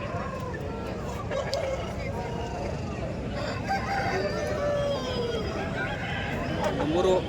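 A desi breed rooster crows amid the noisy Sankranti festival market at Kundarpalli, its calls rising over a constant crowd hubbub with voices chattering throughout.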